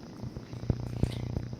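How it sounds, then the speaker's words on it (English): A cat purrs close by in a soft, low rhythmic rumble with gentle pulses, faint and steady with no one talking. "I hear a cat."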